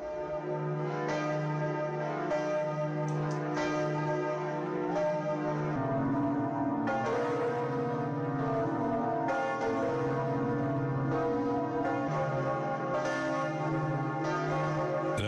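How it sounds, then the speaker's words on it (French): Notre-Dame cathedral's real church bells peal continuously, their rich overlapping tones ringing out steadily and loudly throughout, with no voices. "Vous entendez les cloches, et ce sont les véritables cloches de Notre-Dame"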